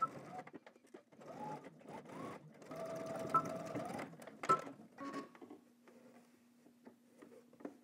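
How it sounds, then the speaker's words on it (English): Sewing machine running in short bursts while top stitching a shirt pocket, with steady mechanical whirring and a couple of brief pauses before a quieter low hum at the end. "we're gonna top stitch to secure it"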